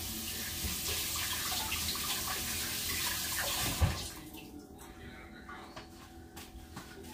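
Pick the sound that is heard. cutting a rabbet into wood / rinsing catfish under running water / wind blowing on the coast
rinsing catfish under running water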